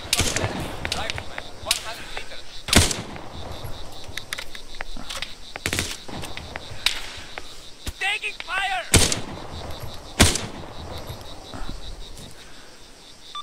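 Gunfire in the military video game ArmA 3: repeated sharp shots and heavier booming blasts at irregular intervals across a steady outdoor ambience with a faint insect-like hum, loud and close.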